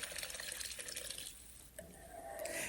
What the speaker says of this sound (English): pouring in the water